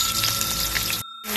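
Garlic, onion and ginger sauté in a pan with a bright, steady sizzle that cuts out briefly before resuming.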